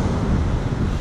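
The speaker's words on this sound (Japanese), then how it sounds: "風がね東かな、ちょっと吹いてるんですけど" East wind blowing at a beach, a steady broadband rush with buffeting wind noise on the microphone and a faint wash of surf beneath, continuous and fairly loud with no voices.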